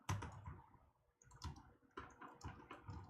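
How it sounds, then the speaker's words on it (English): Soft keyboard typing in a quiet room, a faint, close patter of irregular clicks in short bursts with brief pauses between them. "Is it annoying to hear my typing?"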